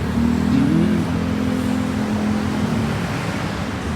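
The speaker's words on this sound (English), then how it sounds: "What's that motorbike?" A motorbike engine drones steadily on a Bangkok street, its pitch rising briefly as it passes nearby, with no voices.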